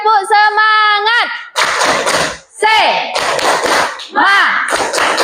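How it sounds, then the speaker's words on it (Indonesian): A group in a classroom session performs the 'tepuk semangat' clapping chant, with sung or chanted voices alternating with bursts of loud, rhythmic claps in quick patterns, close and energetic. "kita tepuk semangat terlebih dahulu ya"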